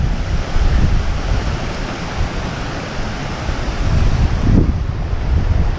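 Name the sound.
roar of a small waterfall in Assynt, Scotland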